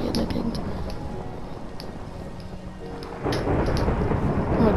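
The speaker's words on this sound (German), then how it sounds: "Oh mein Gott, scheiße, Blitze." Minecraft thunderstorm with lightning: loud rumbling thunder over steady heavy rain, with a surge in volume toward the end.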